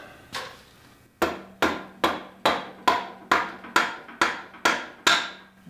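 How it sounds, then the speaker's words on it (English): A rubber mallet taps a wheel axle into place on an E-Cells Dual Kingstar front wheel: about ten sharp, evenly spaced knocks, close up and alone in a quiet room. "Now I just align the axle, and I'm going to use a rubber mallet."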